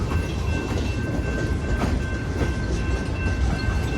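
A slow freight train with many boxcars rolls past close by, a steady loud rumble and clatter of wheels on rail throughout, with no horn and no voices.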